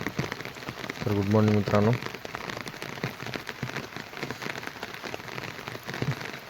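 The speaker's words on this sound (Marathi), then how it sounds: "बघा पावसाचे हाहाकार." Heavy monsoon rain pours in a dense, steady hiss with scattered drop impacts, while a person briefly speaks a short greeting near the start.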